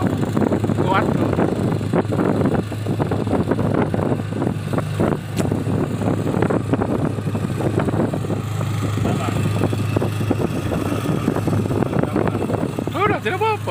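A fuel-efficient outboard boat engine runs on a test, a steady low drone holding throughout with wind buffeting the microphone, while people talk over it intermittently.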